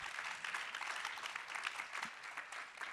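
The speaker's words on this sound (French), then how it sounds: "On peut applaudir nos participants." Dense applause from a conference audience after a round-table discussion on wine dealcoholisation, a continuous wash of many hands clapping at moderate distance, fairly soft and steady.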